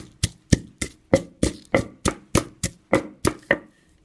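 Chilies for a Thai papaya salad are pounded in a mortar, producing about a dozen evenly spaced, solid thuds in a steady rhythm. The pounding is close and clear, with no voices.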